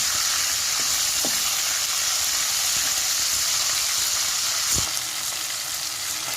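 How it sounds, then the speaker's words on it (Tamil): Dried nei meen fish frying in oil makes a steady, dense sizzle and hiss throughout, close and loud, with a few faint knocks. "அப்படியே எண்ணெயில் போட்டு நல்லா வறுத்து எடுத்துக்கலாம்."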